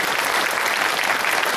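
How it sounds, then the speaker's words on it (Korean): A church congregation claps in praise during a Korean sermon, a loud, dense, even wash of many hands sustained throughout with no break and no speech on top. "좋으신 하나님께 한번 영광의 박수 올려야 됩니다."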